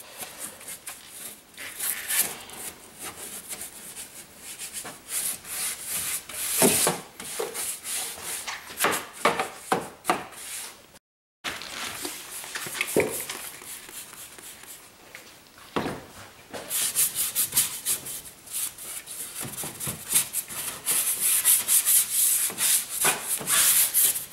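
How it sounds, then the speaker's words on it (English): A detailing brush scrubs the engine intake tubes of a Porsche Cayenne Turbo in quick, repeated bristly strokes, heard close and fairly loud, broken by one short pause and a few slower passes. "the brush works really well on these intake tubes as well, so you can get in all these tight crevices"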